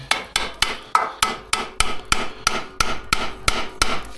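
A hammer taps an engine part during Citroën Saxo engine-swap preparation, about a dozen light metallic blows in a steady rhythm, close and clear with no talking.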